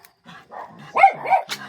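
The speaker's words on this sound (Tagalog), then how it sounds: "Magulo yung mga aso" Several dogs bark and yip in a short, excited burst, the barks rising in loudness toward the end with overlapping voices close by.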